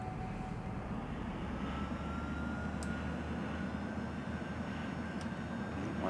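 Sukhoi SuperJet SSJ-100 jet engines running in Microsoft Flight Simulator, a steady, even roar with a faint high whine that holds unchanged throughout, with no voices.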